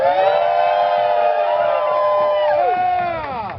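A protest crowd cheering and whooping loudly, many overlapping voices rising and falling close by throughout.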